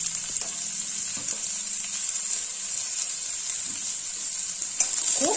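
Chopped onions sautéing in a pan, a bright steady hiss of frying with a few soft stirring knocks, close and even, rising slightly at the end.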